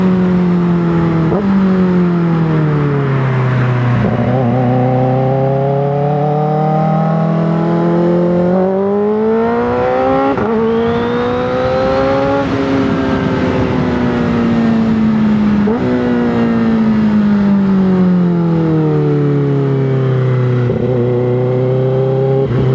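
A Kawasaki ZX-4RR motorcycle engine screams while riding, its high-pitched inline-four note rising through gears and dropping at each shift in repeated sweeps, loud and close throughout with no speech.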